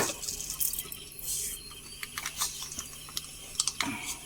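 Mustard seeds spluttering in hot oil under a covered pan while a brindle berry curry is prepared: faint, scattered crackling pops at an irregular pace, some clustered, heard alone without talk.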